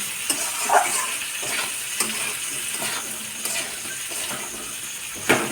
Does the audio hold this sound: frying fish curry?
yes